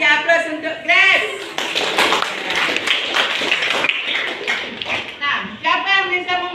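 Classroom applause for a pupil, a burst of clapping from a group of students filling the room for several seconds, with a teacher's voice speaking before and after.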